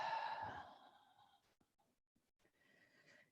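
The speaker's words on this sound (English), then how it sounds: "and breathing out through your mouth." A slow, audible exhale through the mouth during a gentle morning stretching session, a breathy rush that fades over about a second and a half, followed by quieter breaths and small movements.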